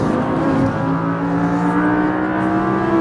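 An Audi R8 570S drives hard on a race track, its engine note droning loud and steady at close range with a continuous harmonic whine, and no voices over it.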